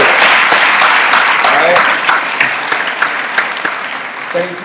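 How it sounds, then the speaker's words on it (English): A university lecture audience at the University of Michigan breaks into a loud round of applause, dense clapping that gradually thins out as a speaker's voice comes in over the fading claps. "One more round of applause, because it feels good."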